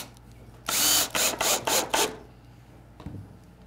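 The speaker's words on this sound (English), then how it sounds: "Start at one end and affix the screw all the way down." A power drill drives a screw into a wooden table with pipe legs, a loud close whirring grind in several quick pulses, then a faint knock.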